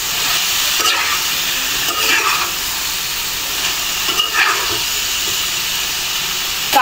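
Green jackfruit curry with green chili paste stir-fried in a pan, giving a loud, constant sizzling hiss close by, with a few brief scrapes from stirring.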